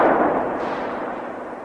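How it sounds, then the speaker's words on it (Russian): A single loud shotgun blast fired upward bursts out at the start, then decays into a long fading echo. "Грозно, назидательно прозвучал учительский выстрел"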